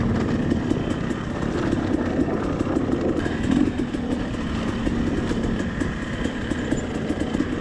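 Beta 300RR two-stroke dirt bike engine running steadily at a low, lugging pace, a continuous raspy drone close by with faint clattering and no voices.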